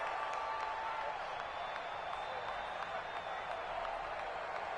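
Crowd noise from a Madden football video game, a steady wash of cheering and applause filling the stadium, continuous and moderately loud throughout.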